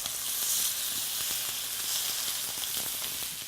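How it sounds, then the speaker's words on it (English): Lamb chops sizzling in a hot oiled pan over medium-high heat, a steady dense crackling hiss with small pops throughout, close and fairly quiet, no talking. "we're going to add a little oil to a hot pan and place the chops 2 at a time"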